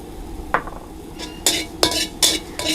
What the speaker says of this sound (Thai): ใส่เกลือลงไปด้วยนะ คั่วไปเรื่อยๆ นะลูก